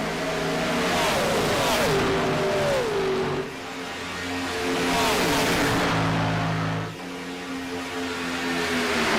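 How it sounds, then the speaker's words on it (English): Gen 4 stock race cars racing at Talladega, loud engines revving and sweeping past with falling pitch, several cars roaring by in close succession. "them Gen 4 race cars just sound so freaking good"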